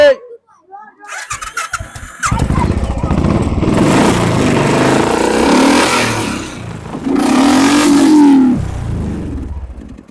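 A 2017 Royal Enfield Thunderbird motorcycle at a used bike showroom near Kolkata starts up and revs loudly and close, its engine rising and swelling twice, with people talking over it.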